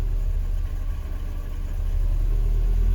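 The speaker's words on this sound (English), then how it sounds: "It's searching for whatever reason and surging, but it fired right up." A car engine, just repaired after a blown 10 amp fuse, idles close by with a loud, steady rumble that gently rises and falls as the revs hunt and surge, with no voices.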